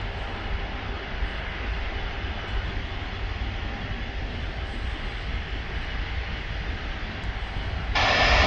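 An IndiGo airliner rolls down the full length of a runway on its takeoff run, a steady distant jet roar that swells louder toward the end, heard from a viewing park.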